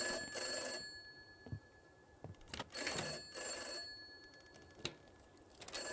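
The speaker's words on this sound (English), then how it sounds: "I gotta answer this phone." Telephone rings in a video game, a house phone's bell sounding in repeated bursts with short pauses between them, loud and close, with no voices.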